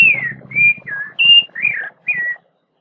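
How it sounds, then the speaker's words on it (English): A bird gives a series of six shrill, whistle-like squeals in quick succession, close and loud, with short gaps between them. "I have to talk over the constant squealing of that bird"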